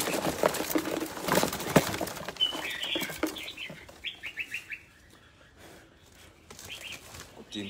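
Wings flap in loud bursts up close, followed by a series of quick bright chirps from small birds, with pauses of near quiet between.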